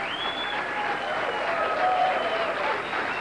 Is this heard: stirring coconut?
no